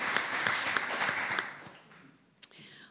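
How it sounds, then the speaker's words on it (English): An audience at a city State of the City address applauds, a short burst of clapping that fades out within two seconds, followed by a brief sound near the end. "let's give Jamie Shaw another round of applause."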